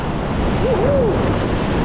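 Rough sea waves surging steadily around a fishing boat in heavy surf, a continuous close wash of water and wind with no distinct breaks.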